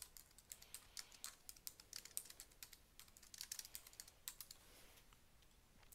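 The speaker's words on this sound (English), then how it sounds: "I'm going to go ahead and type in the title." Quiet, rapid typing on a computer keyboard, a light patter of irregular keystrokes continuing throughout with no talk.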